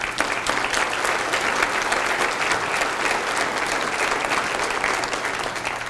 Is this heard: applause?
yes